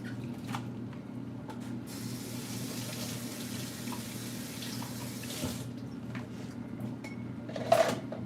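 Crystal glasses being washed under a running tap, a steady stream of water with faint clinks and rattles and one sharper knock near the end.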